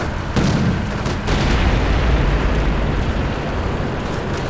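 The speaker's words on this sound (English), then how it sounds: "And it looks like another tank is bitten to dust." Heavy explosion rumble from a tank being destroyed in the Combat Mission Black Sea war game, a loud sustained low boom with debris-like crackle filling the whole stretch.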